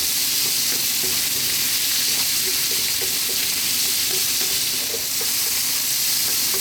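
Mushrooms stir-fried in a pan over high heat, seasoned with salt and black pepper, give a steady dense sizzle with soft scraping and stirring clicks throughout, close and loud with no talking.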